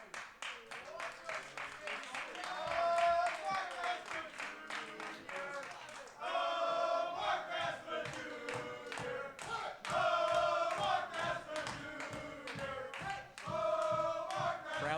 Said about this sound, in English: Crowd certainly excited by that announcement.